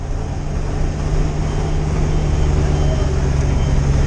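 A car engine running steadily and loud after being started on a snowy roadside where trucks are fitted with chains, a constant low droning hum filling the whole stretch with no break.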